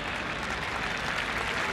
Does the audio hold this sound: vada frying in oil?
no